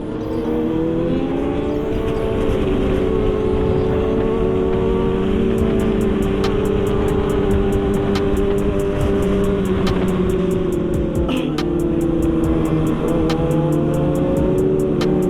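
Kawasaki ZX-6R and 1000cc motorcycles roar together on the road, dense engine drone with rising and falling harmonics from several bikes running continuously close by, strong wind rush throughout.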